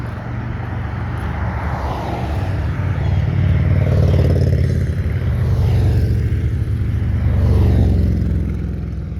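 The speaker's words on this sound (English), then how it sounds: "I'm the biggest motorcycle fan, but those loud bikes are so annoying." Loud motorcycles pass close by outside while a kayak-loaded truck sits parked, a broad engine roar swelling twice over about nine seconds with no talk.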